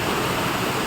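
Waterfall on a ghat road, a steady broadband rush of falling water, loud and continuous, with no voices.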